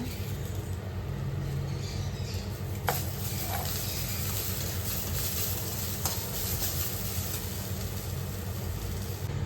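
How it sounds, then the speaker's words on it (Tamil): Cumin seeds and curry leaves sizzle and crackle steadily in hot oil as they are stirred in a pan, a continuous close hiss with a few sharp clicks from the spoon. "சீரகம் போட்டுக்கலாங்க கருவேப்பிலை மல்லித்தலை போட்டுக்கலாங்க"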